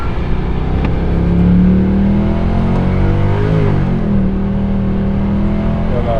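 A 2011 Mercedes C63 AMG with its 6.3-litre V8 accelerates loudly and close by, a steady, rough-sounding engine note that rises and sags as it pulls, reportedly not accelerating properly.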